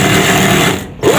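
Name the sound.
sewing machine stitching a collar band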